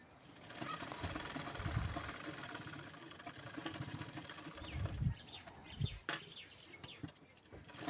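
A sewing machine stitches a lined blouse in quick whirring runs, with short pauses and a few clicks between the bursts, fairly close.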